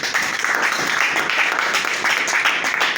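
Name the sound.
congregation clapping in church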